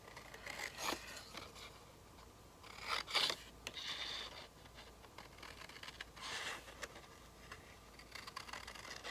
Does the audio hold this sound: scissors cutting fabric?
yes